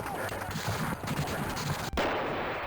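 Artillery in the Civil War Generals 2 strategy game sounds as a rapid clatter of gunfire and booming cannon shots, dense and loud for under three seconds, with a sharp break near the end.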